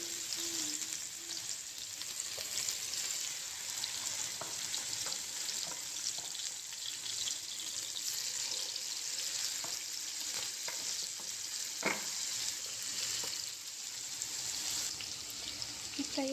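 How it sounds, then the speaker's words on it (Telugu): Pieces of king fish fry in green masala in a pan over low heat, giving a steady, soft sizzle that carries on throughout, with a few faint clinks and stirring sounds and almost no talking. "ఒక ముక్క తీసి సిమ్లో పెట్టి బాగా యాగనివ్వాలి"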